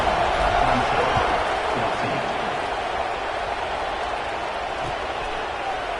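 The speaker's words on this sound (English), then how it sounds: "this crowd now ready to get behind them" A large football stadium crowd roars in a steady, dense wash of cheering and clapping that holds throughout, with a commentator talking over it.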